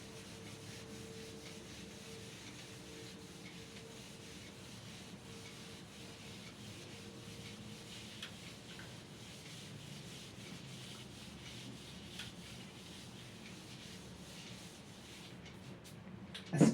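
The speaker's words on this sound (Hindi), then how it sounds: "तो इसके रब कर देते हैं।" Duster or cloth rubbing writing off a classroom board during a chemistry lesson, a steady soft scraping that runs throughout at low level, with a brief louder knock at the very end.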